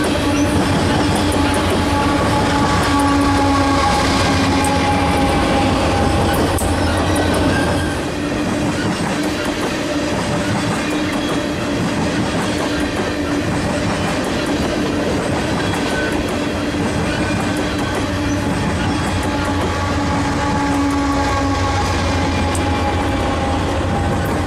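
A freight train rolls past close by as its mid-train DPU locomotives go through, a loud, steady rumble of engines and clattering wheels with faint squeals, lasting the whole stretch with no talking.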